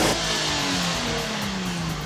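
A Porsche sports car engine revving hard on a racetrack, a loud, dense roar that holds steady and rises slightly in pitch across the whole short stretch, near and without any talk.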